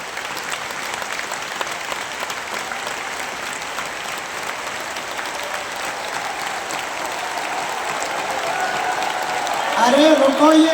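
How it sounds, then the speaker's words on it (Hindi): A crowd at a religious gathering claps steadily and continuously for several seconds, growing louder toward the end. "कम से कम 1 मिनट तक आपकी ताली बजनी चाहिए।"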